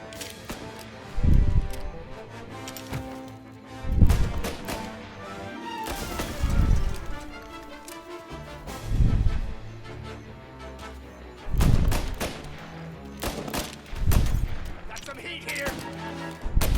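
Gunshots in a mafia-themed game, a chaotic firefight of heavy bangs and cracks going off every couple of seconds, mixed with crashes and ongoing shouting voices.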